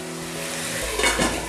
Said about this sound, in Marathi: छान मिक्स करूया गॅस थोडासा मिडियमवर ठेवून